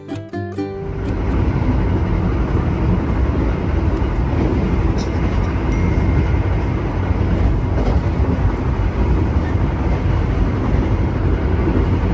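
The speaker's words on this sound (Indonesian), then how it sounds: "Sekarang ini kereta api Gajah Wong sudah tiba di kota Cirebon" Gajahwong passenger train running near Cirebon: a steady, loud low rumble of the moving train with faint rhythmic rail clatter, continuous for about twelve seconds after a brief opening sound.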